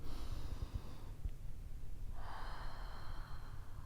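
Slow, deep breathing during a Pilates cooldown: a long nasal inhale followed by a fuller, breathy exhale through the mouth, close and steady with no talk.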